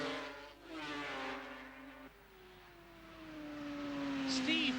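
Racing motorcycle engines at an Oulton Park race in 1977 drone with a steady, moderately distant pitch that falls away and then climbs again. The tone is continuous and sits among crowd and commentary ambience.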